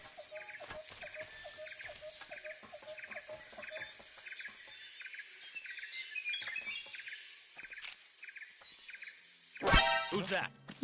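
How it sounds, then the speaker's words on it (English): Bird calls and chirps echo through a video game jungle in Metal Gear Solid 3: Snake Eater, scattered over a continuous insect hum, followed near the end by a loud, abrupt burst of noise. "I hear all these bird calls and I want to find birds"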